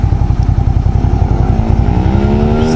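Hyosung GV650 Aquila 650 cruiser motorcycle rolling along at idle with no throttle, its loud, close engine putting out a steady low throbbing with slight clatter and a gently rising tone near the end.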